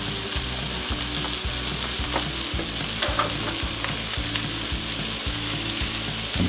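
Wild turkey meat frying in a hot pan with onions and peppers, a loud, dense continuous sizzle with a repeating rhythmic mechanical rattle beneath it and no talking.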